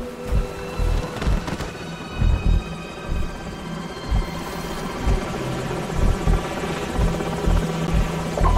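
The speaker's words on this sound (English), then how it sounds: "Enemy helicopters." Helicopters in a Call of Duty 4: Modern Warfare mission, a steady loud rotor thump pulsing throughout over a rumbling engine hum with battlefield noise.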